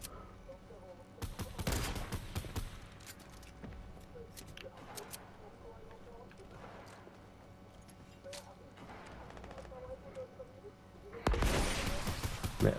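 Rockets fire and explode in a video game: a cluster of sharp blasts early on and another loud burst at the end, with game noise and talking in between.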